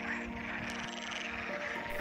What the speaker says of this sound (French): nous sommes surpris par un concert assourdissant de grenouilles